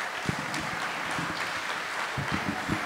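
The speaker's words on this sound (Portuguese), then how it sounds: "Merece uma salva de palmas, não merece quem fez?" Light clapping from a small church gathering, scattered hands patting unevenly and fairly close, with some low murmuring voices around it.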